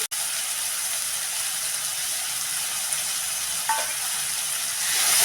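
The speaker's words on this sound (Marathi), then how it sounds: "आता कांदा चांगला लालसर होईपर्यंत परतून घ्यायचा आहे" Chopped onion sautéing in hot oil for egg bhurji, a steady broadband sizzle throughout with a brief scrape of a utensil near the end, no talking.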